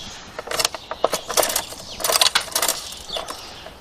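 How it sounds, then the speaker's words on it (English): Quarters clinking together at a zoo in Billings, a series of bright metallic clinks and jingles in irregular bursts, fairly close, with no talking. "Do you know that sound? Sound of clinking quarters."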